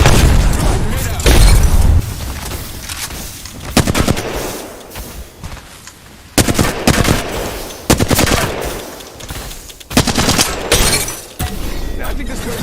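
A video game battle: loud bursts of automatic gunfire mixed with sharp grenade explosions and shattering impacts come in repeated clusters, some heavy booms standing out between the rapid firing.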